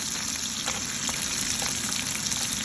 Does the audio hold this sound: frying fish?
yes